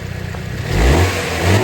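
A compact Mini Cooper engine cranks and catches close by, then revs up in a loud, throaty rise and settles into a strong mid-pitched drone.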